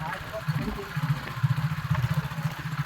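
A motorcycle engine idles nearby with a steady low chugging pulse, while people talk over it.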